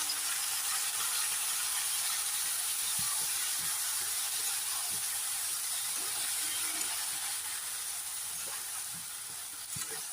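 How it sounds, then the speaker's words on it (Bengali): Fish frying in a pan, a steady close sizzle and hiss that runs unbroken, with faint clinks and stirring taps. "মাছ ভাজি বসাইছি"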